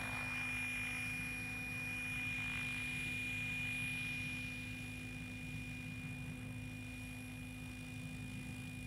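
A radio-controlled model helicopter fitted with a Spirit Geolink unit hums steadily with a high rotor whine and tonal motor drone as it lands, close and unbroken, with no talk.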